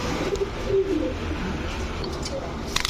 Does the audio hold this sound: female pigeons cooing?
yes